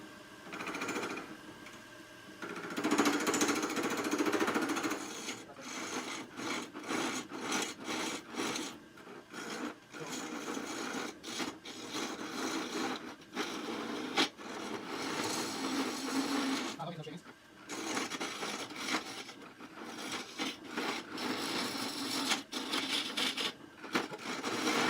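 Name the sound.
wood lathe turning a burl with a gouge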